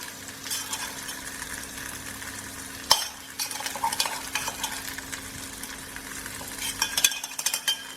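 Eggplant sizzles steadily in a pan with dry spices while a utensil stirs and scrapes, with a sharp clink near the three-second mark and busier stirring toward the end, close by.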